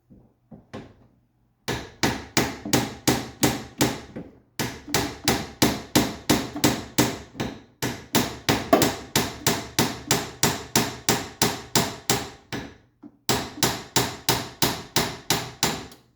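Steady rapid hammer taps on new metal parts of a Triumph TR3 steering rack, about four strikes a second, in three runs separated by short pauses.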